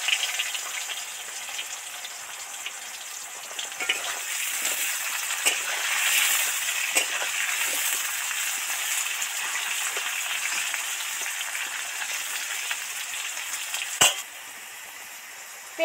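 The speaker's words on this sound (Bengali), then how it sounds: "এবার তেলের মধ্যে পেঁপেগুলো দিয়ে দিচ্ছি।" Papaya pieces deep frying in hot oil for a Bengali bata fish curry give off a steady, close hiss and crackle for a long stretch, with one sharp clink near the end.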